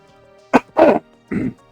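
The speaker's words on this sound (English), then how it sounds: "I have a bit of a cough." A person coughs three times in quick succession, close to the microphone: a short sharp bark, a longer rough hack, then a softer final cough, with no talking.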